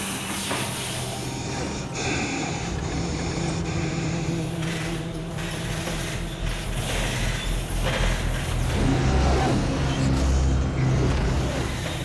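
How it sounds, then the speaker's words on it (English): A film-set motion base rig for First Man moving and accelerating, giving a steady, loud mechanical rumble with hiss and low hum that swells toward the end. "We can move the motion base around at any orientation that we want."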